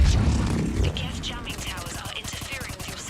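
Rapid repeated firing from a gun in Mass Effect 3 Legendary Edition, a dense rattling string of shots that runs through most of the moment with game noise around it.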